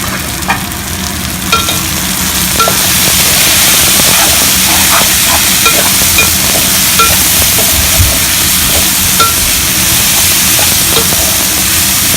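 Vegetables for Hyderabadi pulao fry in hot oil with a loud, continuous sizzle and hiss, close up, with occasional stirring clinks and no voices.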